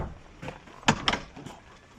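Knocking on the wooden door of a country house, a few quick raps with short gaps between them, close by and moderately loud, with no voices.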